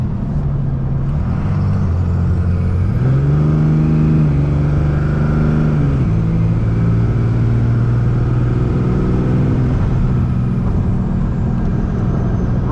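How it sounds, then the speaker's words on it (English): A diesel truck fitted with a PDD Aggressor 60/64 turbo and Banks exhaust accelerates hard onto a freeway, engine drone rising through gear shifts in stepped pitch climbs, loud and continuous from inside the cab. "We got a nice opening to get on the freeway. Just see how this does."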